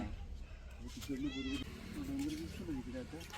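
A cat meows a few times nearby, drawn-out and wavering, while people talk in the background.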